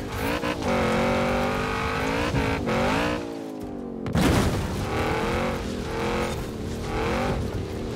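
A race car roaring through a Forza Horizon 4 race, engine revving up and down through gear changes with a brief drop and a thump, loud and close throughout.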